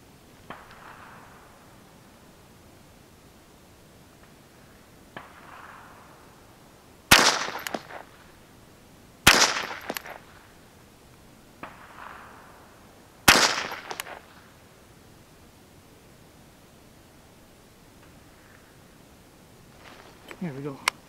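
A Ruger 10/22 rifle fires at an outdoor shooting range during zeroing at 25 to 100 yards: three sharp, close cracks spaced a few seconds apart, each followed by a short echo, with quieter stretches between.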